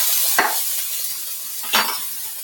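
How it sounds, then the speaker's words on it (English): Onions frying in a pan give a steady, bright sizzle throughout, broken by two short scraping stirs of a utensil against the pan. "So right here I have these onions going, like I said."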